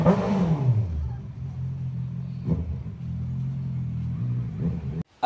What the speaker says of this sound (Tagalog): habang tinitest drive ko yung aking CBR 650, habang binubombahan ko yung mga kapitbahay ko, ay talaga namang sobrang ingay niya